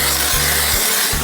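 A gas-powered ice auger bores through roughly two feet of lake ice on a frozen Winnipeg lake, its steady rasping drone loud and close with brief dips in pitch as the bit bites, no voices over it.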